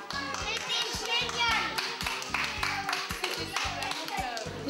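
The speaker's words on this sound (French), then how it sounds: "Le public a applaudi et c'était bien." Audience applause for children's science stage show, a dense patter of many hands clapping close by, with children's voices chattering underneath.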